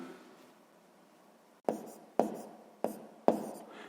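Handwriting with a pen on paper while working a sixth-grade maths exercise: a faint quiet stretch, then four short, crisp strokes in a regular rhythm, close up; no talking.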